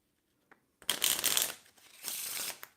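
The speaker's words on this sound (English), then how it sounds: "Does it drown out me talking if I'm shuffling the cards" Playing cards are riffled close up, two crisp fluttering bursts one after the other, preceded by a small tap.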